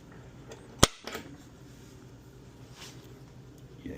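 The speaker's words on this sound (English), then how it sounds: "All right, grab our center punch." A center punch struck once, a single sharp loud metallic crack close by, followed by quiet room tone.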